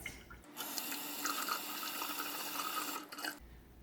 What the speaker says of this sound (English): let's try hot water with soap